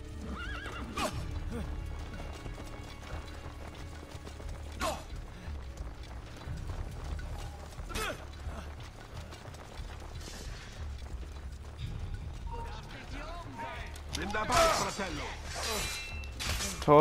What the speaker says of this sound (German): Mein Pferd!